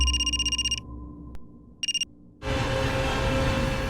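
A telephone rings in a domestic scene from a crime drama, giving two bursts of rapid electronic trills separated by a pause before louder background noise takes over.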